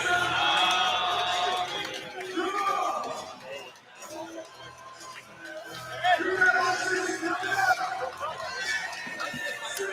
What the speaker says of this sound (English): Crowd getting amped up for this decision.